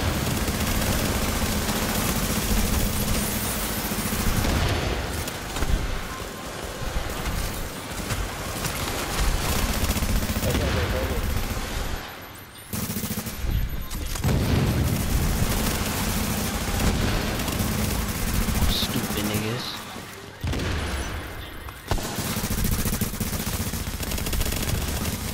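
Near-continuous automatic gunfire in the shooter game Tom Clancy's The Division, dense rattling bursts with booms, loud throughout and broken by a few short pauses.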